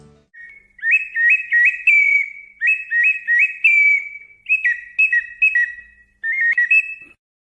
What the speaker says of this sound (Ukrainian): ці іграшки дзвінко свистять та співають